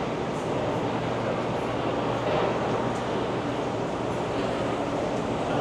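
Steady rumbling ambience inside a Rio de Janeiro metro station, a continuous wash of low machinery hum and crowd noise with no distinct events, close and fairly loud.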